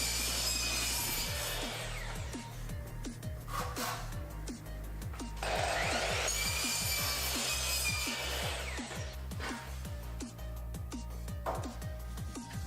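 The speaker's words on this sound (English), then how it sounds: "I cut all the pieces for the top shelf to the same dimension" Wooden boards being cut for a garage shelf, with a steady low mechanical drone under repeated scraping, rasping strokes and brief louder bursts of cutting noise across the whole stretch.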